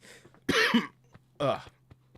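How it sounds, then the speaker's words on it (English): Two harsh coughs, a rough burst followed by another about a second later, close and fairly loud, with faint hum between them. "that was a bad cough"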